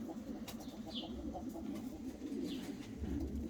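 Pigeons coo softly in an aviary, low throaty murmurs rolling continuously with occasional brighter chirps and a wing flutter, fairly close but quiet.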